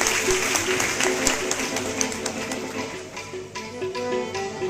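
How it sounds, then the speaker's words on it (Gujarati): Applause from an audience at a community student-honouring ceremony, a dense, steady patter of many hands clapping throughout, heard from within the hall with faint background tones. "આપણે તાળીઓથી વધાવીશું એમને."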